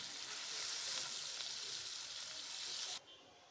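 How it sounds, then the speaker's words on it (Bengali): Fish heads fry crisp in oil, making a soft, steady hiss that continues evenly and then drops away abruptly just before the end. "নিচের পাশটা ভাজা হয়ে গিয়েছে, এখন উল্টে অপর পিঠটাও ভেজে নিব।"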